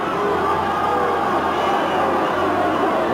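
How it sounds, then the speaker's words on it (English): A rugby stadium crowd cheers for the All Blacks' Umaga, a dense, steady roar filling the space with a faint commentator voice running underneath. "Cheer goes up for Umanga."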